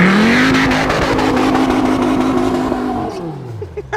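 A loud car engine is held hard against its rev limiter in a sustained, buzzing high-rpm roar, then drops away near the end.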